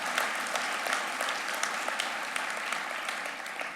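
Applause at a New Year's greetings ceremony in France marks the naming of a new gymnasium, with steady, fairly faint clapping from a crowd heard at a distance and no talk over it.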